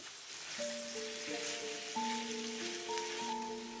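Ivy gourd pieces coated in ground onion paste frying on a low flame, a soft steady sizzle with faint crackles, while a sustained musical tone plays throughout.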